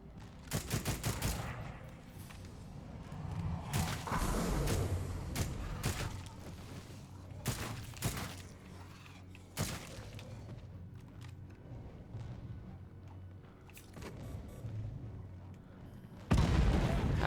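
Grenade blast and bursts of gunfire in a video game, with repeated sharp shots and booms spread across the stretch, loud and close, a heavier blast near the end, no talking over it.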